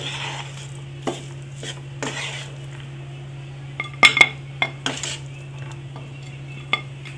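Sago vadas being shifted onto a plate in a home kitchen, a few sharp metal clinks and scrapes of a utensil against cookware over a steady low hum, sparse and close, with a brief murmur of voice.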